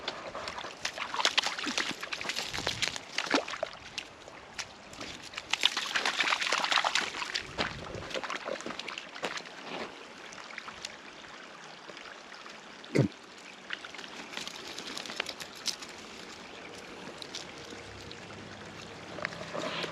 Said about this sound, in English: he usually doesn't play in the water like this.